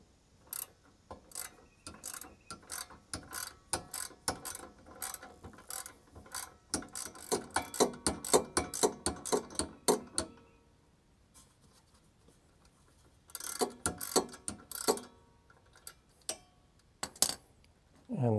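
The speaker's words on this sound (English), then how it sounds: "Let's see if I can get my ratchet to continue." Ratchet wrench clicking during a Miata rear wheel bearing installation with a spring compressor: rapid bursts of close, sharp ratcheting clicks in uneven runs, a pause, then more clicking.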